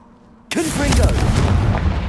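A Confringo blasting-spell explosion in the Hogwarts Legacy video game: after a brief hush, a loud booming burst erupts and rumbles on, filling the rest of the moment.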